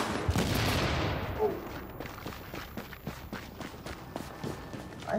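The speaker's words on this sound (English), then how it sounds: "I hear shooting." Gunfire in the video game The Division: a burst of shots at the start fades into a run of quick, regular sharp cracks that sound like rapid footsteps or distant firing, moderately loud, with a voice faintly present.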